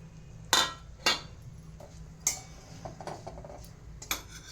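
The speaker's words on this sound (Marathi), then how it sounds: "त्याच्यात मी तूप टाकते आणि त्याच्यात हे खोबरं भाजून घेते" Ghee heating in a wok as grated coconut is roasted, with a few sharp metallic clinks of a spoon against the pan spaced out over a quiet background and no talking.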